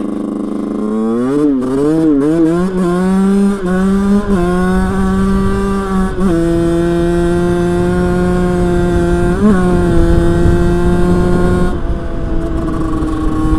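A motorcycle engine with poorly adjusted idle screws and a jet swapped from 115 to 120, revving loud and close in repeated rising and falling swells, then holding steady high revs with brief dips.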